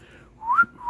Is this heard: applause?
no